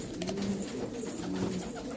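Pigeons cooing nearby, giving soft, low, repeated throaty coos over a quiet background.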